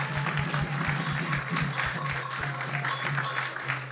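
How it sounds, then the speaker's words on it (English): An audience at ISKCON of Silicon Valley applauds a guest cook at a temple gathering, a steady crowd of clapping hands with a low hum underneath, continuous and moderately loud throughout. "So please give him a big round of applause."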